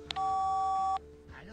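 A single steady electronic phone tone sounding for under a second in the Randal's Monday adventure game, preceded by a tiny click and followed by faint background sounds.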